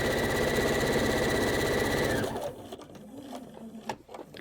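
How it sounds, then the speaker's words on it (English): A sewing machine stitches a key chain lanyard at a fast, steady buzz for about two seconds, then stops, leaving soft handling clicks and faint rustling. "I do sew kind of fast."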